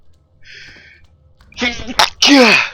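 A sneeze, close and sharp, preceded by a faint quick intake and followed by another abrupt burst.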